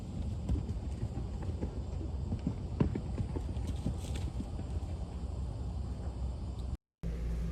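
Hooves of another horse working in a neighbouring round pen, a busy run of clopping and thudding steps with steady background noise and no talk.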